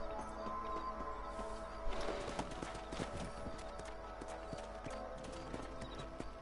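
Horse hooves clip-clop at a walking pace on a ranch in the Western video game Red Dead Redemption, a steady sequence of hoof strikes over game ambience and soft background music.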